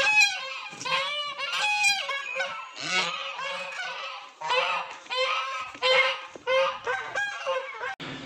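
A crowd of chickens squawks and clucks nonstop at close range, a loud, overlapping commotion of harsh calls with barely a pause.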